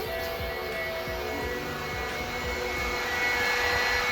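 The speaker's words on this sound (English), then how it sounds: "We got the scavenge pump." A scavenge pump runs on a fully built aluminum-rod 2JZ engine in a Pulsar GTI-R, a loud steady mechanical whir and drone with tonal whine and rough low pulsing, close up and without talk.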